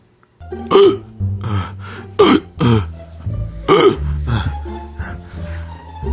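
Cartoon character Cuphead hiccuping, a series of loud, sharp, throaty hiccups at an uneven rhythm, about six in total, close up and mostly alone with no talk.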